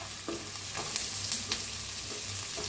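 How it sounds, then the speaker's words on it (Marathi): Onion roasting in a pan for egg curry gives a soft, faint sizzle with light scraping stir strokes at irregular intervals, close by and with no voices. "कांदा भाजून घेऊया आपण बघा कांदा आपला छान असा भाजलाय लालसर असा"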